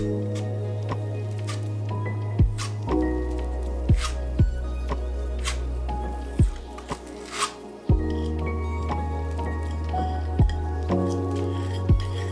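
Filler paste mixed with a very small amount of water is worked by hand, giving soft wet squishes and scrapes, with several sharp tool clicks and taps spaced irregularly, close and fairly quiet.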